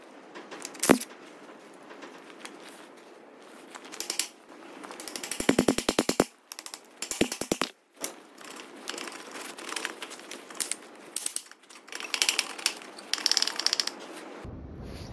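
Bolts come off a damaged Chinese forklift axle in irregular bursts of ratcheting clicks and metallic clanks, with pauses between runs of rapid wrench ratcheting.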